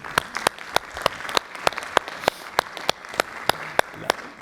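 Sparse, sharp claps from an audience at a health-systems panel at the EurAfrican Forum, evenly spaced single hand claps in a quiet room rather than a full ovation.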